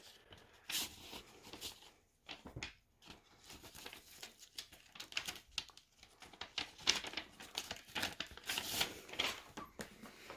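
Paperwork for an original first-generation Amazon Kindle slides out of its plastic sleeve with close, quiet crinkling and rustling in irregular bursts, and no voices.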